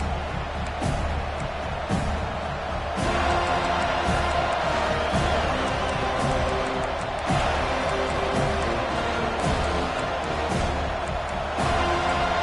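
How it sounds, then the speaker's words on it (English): A stadium crowd at a college football game roars loudly and without a break while the home side forces a false start, with sharp thumps and claps rising out of the steady crowd noise. "with this place rocking, the crowd forces a false start"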